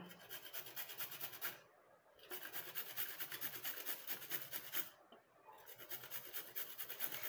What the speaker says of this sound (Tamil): இந்த மாதிரி இந்த பீட்ரூட் துருவதில் வச்சு நீங்கள் துருவுனீங்கன்னா சின்ன சின்னதாக வந்து கீழே விழுந்துடும்